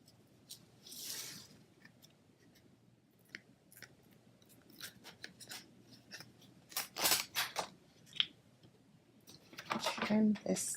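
Scissors snip through cardstock in a series of short, crisp cuts, sparse at first and then quicker and closer together, with faint handling of the paper between snips.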